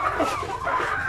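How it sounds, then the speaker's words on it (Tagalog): A Peruvian game fowl rooster clucks in short, soft, repeated calls at close range, with light background noise. "Game foul, Peruvian na pinacross ko sa aking mga Bisaya o mga native na mga manok"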